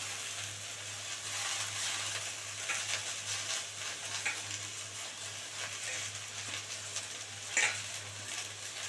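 Pea greens (motor shak) hitting hot oil in a home kitchen pan, a steady close crackling sizzle running throughout with a low electrical hum beneath and a brief louder spatter near the end.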